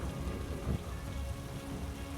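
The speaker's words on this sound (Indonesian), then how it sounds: "Awan hitam datang, disertai hujan petir yang amat deras." Heavy rain pours steadily in a dense, constant wash, with a low rumble of thunder surging briefly partway through; no voices.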